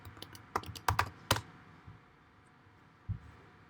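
Typing on a computer keyboard: a quick, uneven burst of clicking keystrokes, a short pause, then one last isolated tap. The clicks are close and fairly quiet, with no voices.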